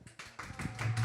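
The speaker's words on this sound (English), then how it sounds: "Let's give her a round of applause" An audience at a children's birthday-party event claps for a guest in a short run of quick, rhythmic claps that grow louder.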